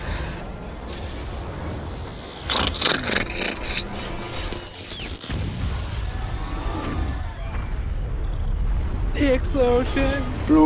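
A big explosion in the video game Resident Evil 6 during an aircraft carrier raid, a burst of crashing noise over a dense rumbling game mix, with players talking over it.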